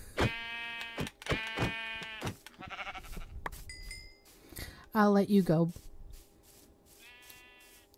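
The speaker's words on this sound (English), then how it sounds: "Because I need a white sheep." Sheep bleating in Minecraft, several short wavering bleats in quick succession near the start and again midway, mixed with game clinks and effects while someone talks over them.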